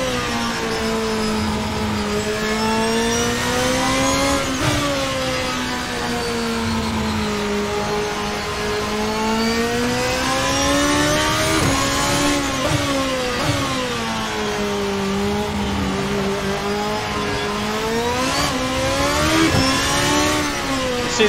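A VRC GP2 race car engine in Assetto Corsa screams loudly and close, rising and falling through repeated gear changes and revs as it accelerates and lifts through corners, with no talk over it.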